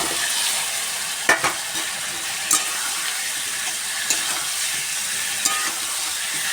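Potatoes frying in oil in a pan, a dense continuous sizzle with several sharp clacks of a spatula stirring them, close and steady throughout.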